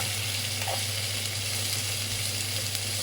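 Onion and capsicum fry in a pan for gobi manchurian, a steady loud sizzle that holds unbroken throughout with no voices.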